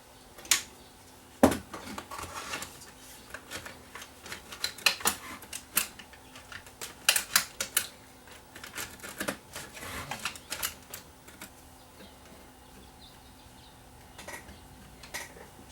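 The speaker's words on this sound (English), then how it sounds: "Get the front faceplate back on now." Plastic faceplate of a Harman Kardon CD491 cassette deck being fitted back on, heard as a string of close, irregular clicks, taps and light knocks with quiet gaps between them and no speech.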